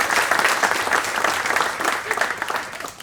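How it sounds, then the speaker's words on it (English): A stand-up comedy club crowd gives a woman a round of applause, loud dense clapping that carries steadily throughout and fades slightly at the end. "Round of applause for this woman."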